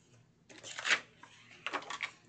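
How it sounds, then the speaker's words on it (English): A finger blade slicing through cardboard in two short, quiet scraping passes close by, with faint rustling in between. "I am just going to take my finger blade and I'm going to cut off a portion."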